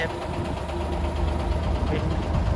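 An old Hino 380 series tractor truck, registered in 2018, idles nearby with a steady, low, rumbling drone and a faint knock that continues throughout.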